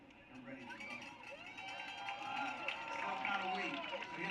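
Graduation crowd cheering and shouting, a large mass of voices swelling steadily louder with whoops and chatter across a big venue.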